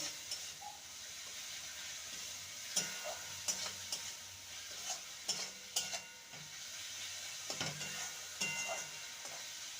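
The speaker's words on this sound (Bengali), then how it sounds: "মিডিয়াম সাইজের টমেটো কুচি সমস্ত মশলাকে ভালো মতো কষিয়ে নেবো" Spice masala with chopped medium tomato is stirred and fried in a pan, a soft steady sizzle and hiss broken by a series of quieter spoon scrapes and knocks, with no talk.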